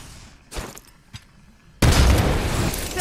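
A frag grenade exploding in the game Apex Legends, heard as a loud, sustained booming blast with rumbling debris after a few short, sharp pops.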